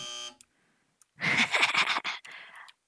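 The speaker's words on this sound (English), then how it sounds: "When you hear the buzzer" A harsh electronic buzzer from the video game Evoland II sounds as a short steady tone, followed after a pause by a louder, noisy burst of sound.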